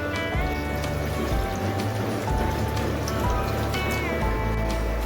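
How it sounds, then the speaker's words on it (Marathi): Water poured steadily into an Agri-style barramundi (jitada) fish curry in a pan, a continuous close splashing and hissing patter that runs without a break, with no talk. "आता आपण यामध्ये पाणी घालूया."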